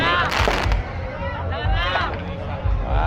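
Fireworks bursting at a Cavite City fiesta carnival in the Philippines, a few loud booms and crackles over a crowd, with people talking nearby.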